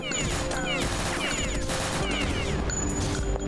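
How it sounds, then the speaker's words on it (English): Rapid SMG fire in the video game Beyond Citadel, a dense stream of shots running without break for a few seconds at close range, with other game sounds mixed in and no speech. "I'm gonna snipe it with my SMG"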